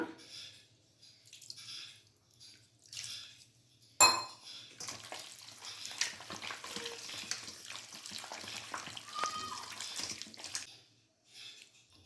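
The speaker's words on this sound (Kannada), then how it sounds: "ಒಂದು ಸ್ವಲ್ಪ ನೀರು ಹಾಕ್ಕೊಳ್ಳೋಣ" Water splashes into a bowl of chicken manchurian mixture as it is stirred, with a sharp clink of a utensil followed by continuous wet swishing and scraping, alone with no talking.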